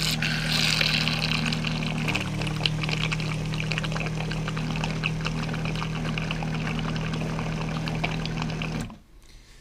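A yacht's bilge pump system pumps water out of the bilge with a steady motor hum and gushing, pouring water, running continuously before abruptly cutting off near the end.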